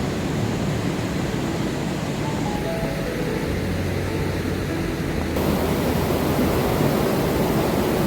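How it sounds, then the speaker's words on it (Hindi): A clear mountain stream, the Markandeya Ganga on the Madhyamaheshwar trek route, rushes steadily as a broad, loud, continuous wash of water with no voices. "कितना क्लियर पानी बह रहा है"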